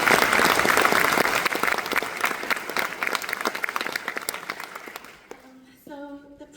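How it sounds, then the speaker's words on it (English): A crowd claps loudly at a nursing pinning ceremony, dense sustained applause that thins out and fades, followed by a few faint tones. "You all deserve a huge round of applause."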